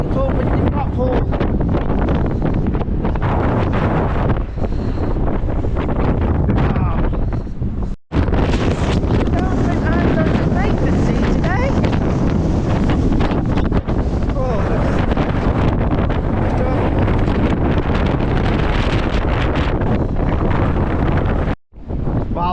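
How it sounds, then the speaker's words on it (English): Strong gusts from Storm Eowyn batter the microphone on the Blackpool seafront, a loud continuous roar of wind with crashing sea beneath, briefly cutting out twice. "This wind is getting dangerous, I'm telling you now."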